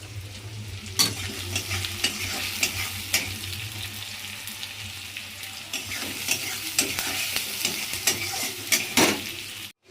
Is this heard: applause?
no